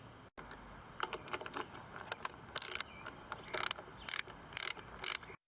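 Sharp ratcheting clicks in short bursts as a socket wrench backs off 10mm nuts on the air filter housing of a Sears Craftsman lawn mower with a Kohler Courage engine, close and fairly loud over a quiet background.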